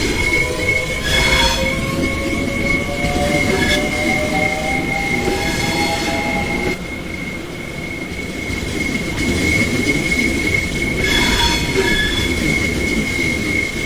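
Class 465 electric train in Train Sim World 2 running on the Gravesend to Rochester line, a steady loud rolling rumble with high flange squeals and whining tones rising and falling throughout, no voices.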